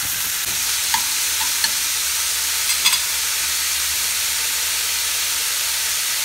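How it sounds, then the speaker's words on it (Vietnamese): Beef sizzles steadily while being stir-fried over high heat with golden garlic for a water spinach beef salad, a constant loud frying hiss with a few faint stirring clinks and no voices. "Các bạn cho thịt bò vô để xào."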